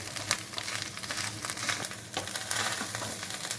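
Fish eggs frying in a pan over a medium flame make a steady, dense sizzle with a spattering crackle throughout, close and fairly loud, with no voices.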